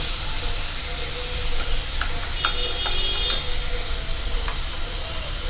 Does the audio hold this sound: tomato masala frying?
yes